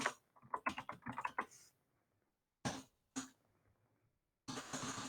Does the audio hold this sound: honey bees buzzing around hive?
no